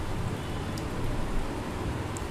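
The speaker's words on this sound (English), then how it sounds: "let's watch the rain streaks in action" Steady rain-streak ambience from Lumion 3D rendering software: a dense, even hiss of falling rain that stays constant throughout, with no voices.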